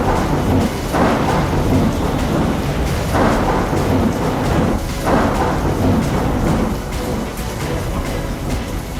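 Heavy monsoon rain pours steadily over the Maharashtra ghat region, with deep rolling thunder swelling several times beneath a loud, unbroken roar of rainfall.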